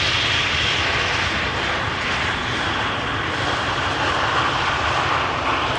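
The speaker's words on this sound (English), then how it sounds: "This airplane is 13 years old. First flight was in November 2009." A 13-year-old airliner, first flown in November 2009, roars at Amsterdam Schiphol Airport. Its loud, steady engine drone is close, continuous and unbroken, with no voices over it.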